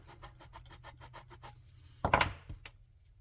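Wooden frames of a Muscongus Bay lobster smack model ship being sanded, a steady run of short rhythmic rubbing strokes followed by one louder scraping pass, close and dry in a quiet room.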